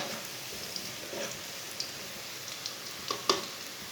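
Onions fry in a pan until half brown for village-style palak and masoor dal, a soft continuous sizzle with scattered small pops and crackles.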